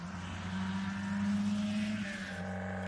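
Engine of a European-model Lancia Scorpion car, a steady droning hum with a slight rise in pitch before easing off, close and unbroken.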